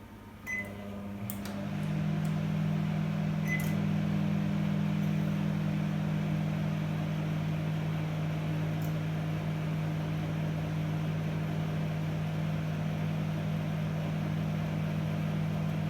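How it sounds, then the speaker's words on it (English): A steady low hum of a microwave oven running while softening butter, constant and unchanging after a brief click and start-up at the beginning. "I'm going to put the butter into the microwave"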